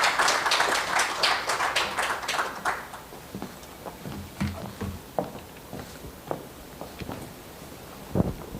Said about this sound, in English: Can we give her a very big round of applause?